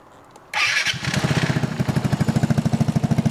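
A 2023 Vespa GTS 300 scooter fitted with an Arrow exhaust, baffle in, starts from cold: a brief starter whir, then the engine catches into a loud, steady, rapidly pulsing idle close by.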